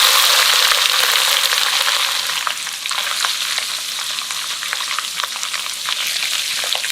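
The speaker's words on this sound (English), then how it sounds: "Fry the salty fish in hot oil until brown and crispy." Salty fish frying in hot oil, a steady loud crackling sizzle with occasional sharper pops, continuous throughout and alone without any voices.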